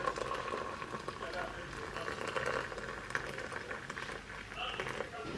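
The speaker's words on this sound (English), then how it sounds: "After boiling, I'm going to pour in my clove tea." Boiled clove tea being poured, a soft bubbling, trickling liquid sound with faint clinks, fairly quiet and steady throughout.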